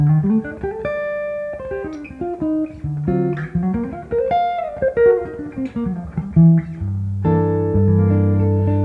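A clean melodic instrument plays rising and falling broken chords, notes ringing one after another in a flowing jazzy line, with a held chord at the end.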